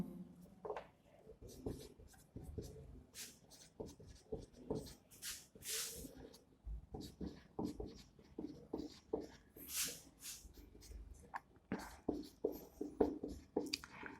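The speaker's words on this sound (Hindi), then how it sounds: "जैसे मैं फोटोसिंथेसिस रिएक्शन लिख रहा हूं" Pen or chalk writing out a photosynthesis reaction, heard as irregular short scratchy strokes and taps with pauses between them, close and fairly quiet.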